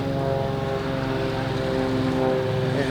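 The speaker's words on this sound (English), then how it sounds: "Then there is a plane above us." A plane flies high overhead above a park, its steady propeller drone filling the air as a loud, continuous hum.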